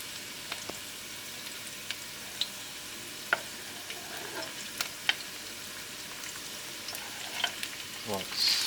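Diced onion fries in extra virgin olive oil in a pan for ratatouille cannelloni, a steady soft sizzle with scattered ticks and pops and light stirring scrapes, close and moderately quiet.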